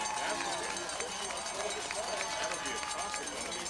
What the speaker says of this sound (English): Highlander fans applauding